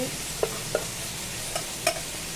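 Oil sizzles with a steady hiss as gram-flour fritters fry, broken by a few sharp clicks of a utensil stirring the pan.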